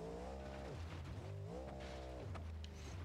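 A revving car engine in the BeamNG.Drive driving game with a 4-speed gearbox and a high-revving tune, its pitch rising and falling as the wheels spin on dirt, loud and steady with a tire-squeal edge.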